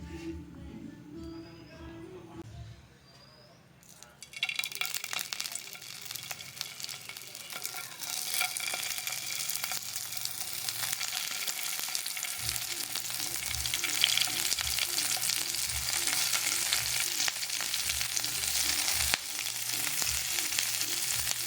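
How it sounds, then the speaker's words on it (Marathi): Prawns fry in a pan. After a quiet opening, a loud sustained sizzle rises and holds steady, with a low rhythmic thumping running underneath in the second half. "आतां चोय बाय प्रॉन्स फ्राय करता"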